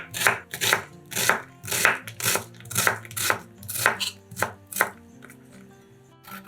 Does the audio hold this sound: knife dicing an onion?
yes